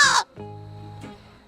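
A crow gives a single short, harsh caw, followed by a lower buzzing, sustained tone that fades out.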